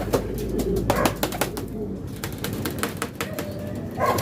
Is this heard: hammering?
no